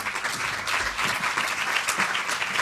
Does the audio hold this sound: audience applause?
yes